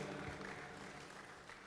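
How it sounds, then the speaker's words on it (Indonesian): A crowd claps at a political party's leadership announcement in Indonesia, a continuous even wash of many hands, fairly faint and distant. "tepuk tangan buat Pak Mangindaan,"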